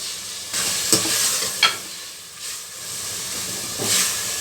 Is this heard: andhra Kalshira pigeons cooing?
no